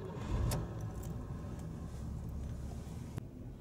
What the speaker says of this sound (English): So what we are gonna do now is to turn the engine on.